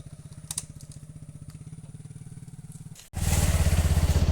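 A motorcycle engine chugs in a steady, rapid pulse while riding over bumpy ground, then suddenly roars louder and rougher near the end.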